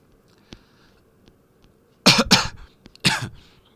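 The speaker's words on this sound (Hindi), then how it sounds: "अच्छी तरह से खांसी आ रही है।" During a general studies lecture on polity, a man pauses in near silence, then gives a hard throat clear and two loud, close bursts of coughing, with one brief click just before.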